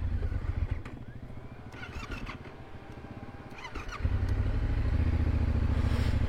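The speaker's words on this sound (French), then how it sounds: "La moto a tendance à partir un peu dans tous les sens." An off-road motorcycle rides a rough trail in the Pyrenees, its engine droning steadily close by, then rising louder and heavier as the throttle opens toward the end.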